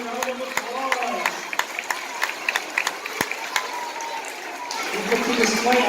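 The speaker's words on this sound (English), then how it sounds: "Give them a round of applause." A third grade class gets a round of applause in a school cafeteria or assembly, steady crowd clapping with a few sharp claps standing out, a voice talking at the start.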